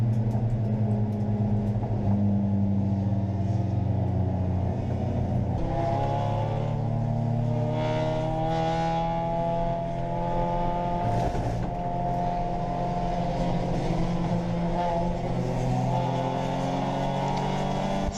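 Race cars roar at full throttle after a green flag at a national racing event, loud engine notes climbing and shifting in pitch as the field accelerates together, with brief gear changes breaking the rising whine.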